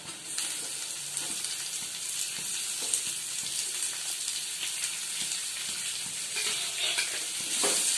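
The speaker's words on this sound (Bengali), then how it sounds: "এবারে আমি পেঁয়াজটা ভাজতে থাকবো যতক্ষণ না একটু ব্রাউন কালার হয়ে আসবে" Chopped onion and red chilli fry in a pan with a steady, bright sizzle and crackle, stirred now and then, close up and without talk.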